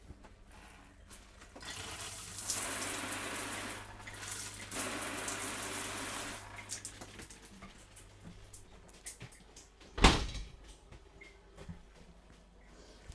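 Shower running in a holiday caravan bathroom: a loud hiss of spraying water for several seconds that then stops, followed by quieter rustling and a sharp knock near the end.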